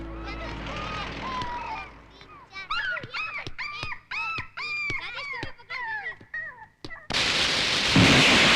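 A dog whimpers and yelps in a series of rising, whining cries amid dialogue in a Tamil film scene, ending in a sudden loud rush of rain or thunder noise.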